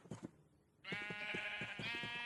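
Sheep on a Minecraft sheep farm bleat in quick, clear calls: a short bleat, a brief pause, then a louder, sustained run of overlapping bleats close by.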